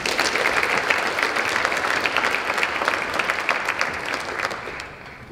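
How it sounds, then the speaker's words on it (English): Warm, sustained clapping fills a school hall as the audience welcomes a guest speaker to the stage at an assembly, dense and even before tapering off near the end. "Please give him a round of applause."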